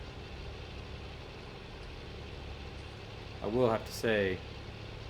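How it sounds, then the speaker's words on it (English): An articulated tractor's engine idling steadily in a farming video game, a low constant drone running throughout while someone speaks briefly over it near the end. "it has been a little while since I've driven an articulated tractor"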